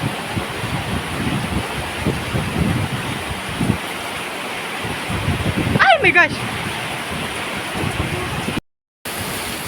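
Heavy rain pours steadily outdoors at a park restaurant in Bantigue, Pagbilao, Quezon, a dense continuous wash of noise, with people talking and exclaiming over it and a brief dropout near the end.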